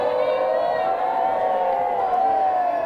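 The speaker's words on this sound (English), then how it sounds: "we can certainly hear Italy's sideline here cheering everybody on, really trying to build the energy" Italy's sideline cheers and shouts continuously at a 2024 women's U17 European championship football match against France, a steady, loud, sustained roar of voices with no clear breaks.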